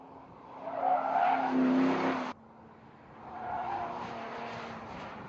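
Sports cars, an Audi TT, Ford Shelby GT, Mazda RX-8 and Nissan 350Z, squeal their tires through a cone lane change test on a track: a loud screech cuts off abruptly, then a second squeal rises more softly.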